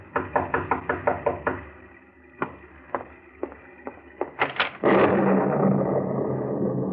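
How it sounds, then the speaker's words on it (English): Sharp knocks on a wooden door come in a quick burst of about seven raps, then a few spaced single knocks, a final flurry, and a muffled rumble at the end, with no speech. "you're startled by a knock on the door"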